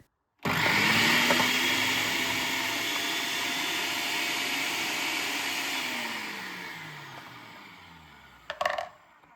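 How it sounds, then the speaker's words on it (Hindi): A 700-watt food processor motor whirs steadily at a high whine for several seconds, then winds down, ending with a brief plastic clatter. "ये फूड प्रोसेसर 700 वॉट का है। अभी मैं चलाऊंगी तो आपको पता चलेगा आवाज कितनी आती है।"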